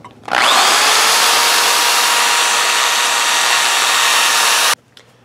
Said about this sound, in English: I'm going to go in here with a carbide bit now, just to smoothen out that edge over there.